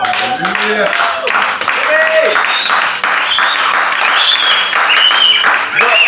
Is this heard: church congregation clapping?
yes